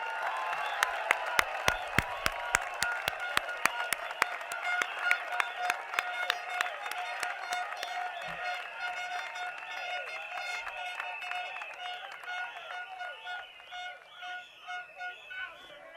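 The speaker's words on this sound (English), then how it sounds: "let's have a loud round of applause for Team WP" Crowd at a Workers' Party general election rally applauds and cheers, with sharp rhythmic clapping early on giving way to sustained shouting and cheering, somewhat distant and quiet.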